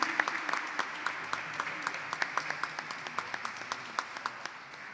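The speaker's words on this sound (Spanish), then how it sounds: "Nuestro aplauso para Ana María." Audience clapping for an award recipient at an honors ceremony, a bed of many hands with distinct nearby claps in a steady rhythm, gradually softening toward the end.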